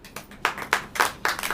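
A church congregation claps during a sermon, about five or six loud, distinct claps in an uneven rhythm, close and clear with no talking over them.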